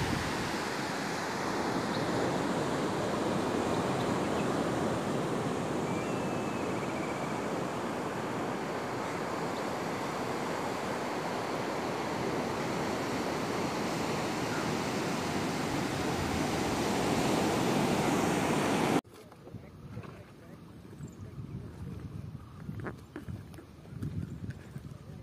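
Ocean waves wash steadily onto the beach at Karwar naval base as a continuous loud roar. The roar cuts off abruptly near the end and is followed by quieter, rougher outdoor noise.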